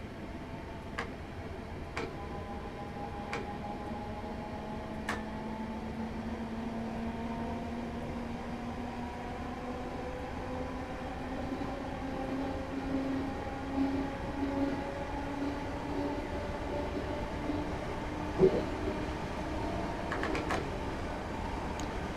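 Class 321 electric multiple unit coasting with power shut off on the Harwich Town to Manningtree line in Train Simulator 2017, a steady low rolling rumble with slowly rising tones and a few faint clicks, no voices.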